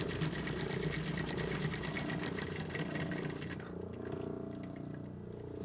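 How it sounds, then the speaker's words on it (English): A sewing machine stitches a shirt collar stand in a quarter-inch seam, a close, fast, steady mechanical whirr with rapid needle clatter that eases toward the end. "So I'm going to sew these. 1/4 of an inch is all you need for us."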